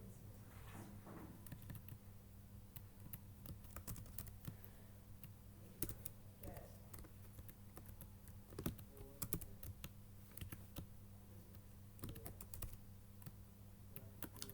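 Rapid keystrokes on a computer keyboard while code is typed, an irregular stream of close, crisp clicks with short pauses, steady and alone without speech.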